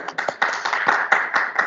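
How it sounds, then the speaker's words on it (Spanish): Audience at a Spanish-language medical conference claps briefly in welcome: a small group of hands with individual claps distinct and uneven, close and moderately loud, no voices over it. "Un fuerte aplauso a los que están presentes"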